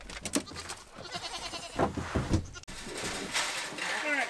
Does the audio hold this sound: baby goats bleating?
yes